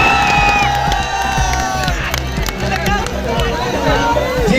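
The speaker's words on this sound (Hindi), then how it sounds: "चारों तरफ से हथवा उठा के ताली बजा रहा है" Outdoor rally crowd at a star's appearance in Aurangabad, a loud, dense roar of cheering and shouting with scattered claps running throughout, voices and a sustained low hum beneath.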